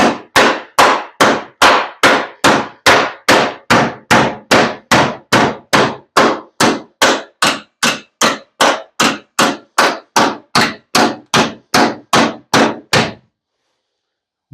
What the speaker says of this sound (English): Let's see what the brass hammer does.